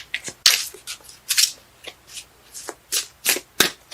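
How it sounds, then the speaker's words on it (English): Tarot cards being shuffled by hand in a series of crisp riffling bursts and soft slaps, close and fairly loud, spaced irregularly with short pauses and no talking. "Cards let me know when they're done shuffling."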